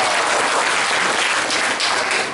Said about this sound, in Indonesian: Tepuk tangan buat mahasiswa